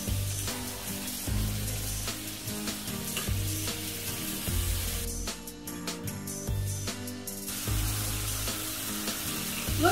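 Freshly flipped chicken pieces fry in a pan over high heat, a dense continuous sizzle and crackle running throughout, sitting under a steady musical backing with no talking.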